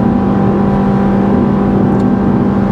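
Suzuki Swift 8th generation with a CVT gearbox accelerating, a steady loud engine drone with a continuous low hum and whine held at an even level, heard alone without talk.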